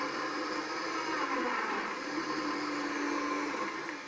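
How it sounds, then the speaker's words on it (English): A blender runs steadily, whirring as it blends pineapple with coconut water for the full stretch at an even, fairly loud level, with no talking over it. "So you just put the pine right in your blender."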